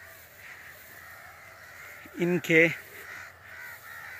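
Crows mobbing a short-eared owl give two loud, harsh caws in quick succession over quiet outdoor ambience, while someone speaks briefly.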